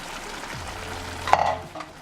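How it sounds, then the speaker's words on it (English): A pot of Nigerian afang soup is stirred, with a soft sizzling simmer and a brief scrape of the spoon against the pot at close range, no talking. "so I'm gonna stir it together"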